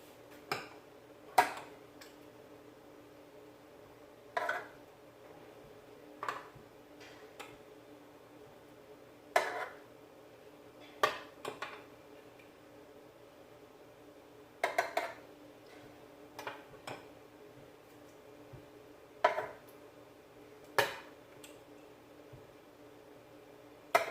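A spoon scrapes and taps against a cup while egg and cheese batter is poured out, giving a series of faint, sharp clinks and scrapes spaced a few seconds apart in a quiet kitchen.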